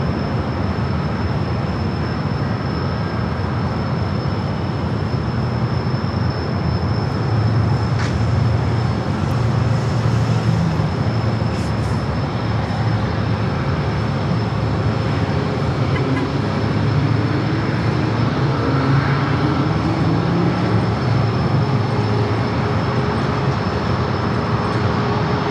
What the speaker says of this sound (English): Flight heading to San Jose, California, now rolling down to runway 27